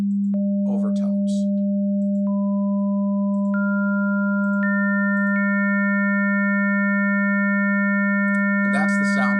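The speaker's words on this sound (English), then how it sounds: "that's the sound that a clarinet would make" Steady synthesized tone built up like a clarinet, with overtones entering one after another above a constant fundamental, a sustained electronic drone; brief speech-like bursts appear near the start and end.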